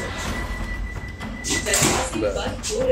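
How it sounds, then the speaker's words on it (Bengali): A train's sliding door rumbles and thuds shut amid background noise, with people talking over it, aboard the Howrah–Puri Vande Bharat Express. "দরজা এরকম ভাবে বন্ধ হয়ে গেল।"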